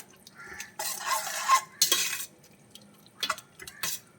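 A spoon stirs a mutton biryani mixture with lemon juice in a pot, giving several short scraping and clinking strokes with quiet pauses between them, close and distinct.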